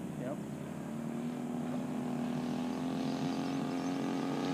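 Hanger 9 Extra RC plane with a DLE55 gas engine idling, a steady droning hum holding one even pitch throughout, continuous and moderately near.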